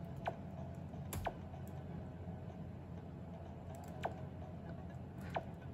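Quiet, steady typing on an old laptop keyboard during a children's typing game, with scattered louder key clicks standing out over a soft constant hiss.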